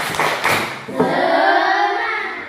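A classroom of students performs a rhythmic spirit clap, a burst of hand claps and thumps in quick succession followed by voices chanting loudly together.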